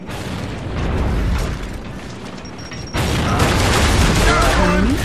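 Grenades blow up during a Gears of War team deathmatch, heavy overlapping booms and a rolling blast that swells louder midway, with a player talking over the noise.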